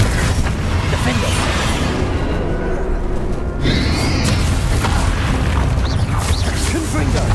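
Bombarda explosion spell in Hogwarts Legacy, with loud booming blasts and crashing impacts over continuous game noise and a voice speaking throughout.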